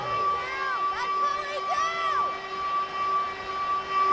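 A stadium crowd roars at a Raiders versus Steelers football game on third and ten, a steady distant wall of cheering with brief rising whistles and shouts sustained throughout.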